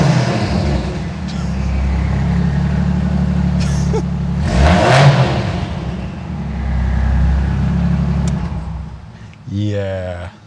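A Mazda RX8 swapped to a Toyota 1JZ engine idles with a loud, deep drone, rises into a sharp rev midway and settles again, with a brief voice near the end.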